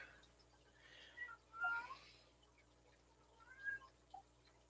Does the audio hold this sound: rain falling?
no